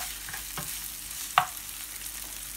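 Peppers and onions sweat in a pan, a soft, even hiss close by with a couple of faint scrapes and one brief sharp click.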